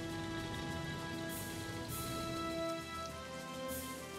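Steady rain falls at night in the World War II strategy game Strategic Mind Blitzkrieg, a continuous hiss of drops on surfaces with a low rumble and faint game tones beneath, no voices.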